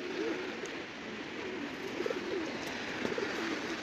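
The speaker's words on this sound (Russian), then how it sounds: "Птички" Pigeons on a building on a Moscow street near Chistye Prudy coo in repeated soft low phrases over a steady hiss of city ambience, with no one talking.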